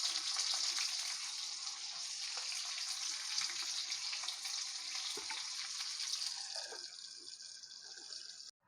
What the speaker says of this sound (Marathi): आता आपण हे मंद गॅसवरती चांगले फ्राय होऊ देऊया लीड लावून